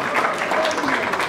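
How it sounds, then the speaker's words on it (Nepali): An audience claps at a Nepali film promotion event, with steady dense applause filling the room while a voice speaks over it. "जन्मदिनको शुभकामना स्वरूप एकचोटि जोडदार ताली पूजा शर्माका लागि।"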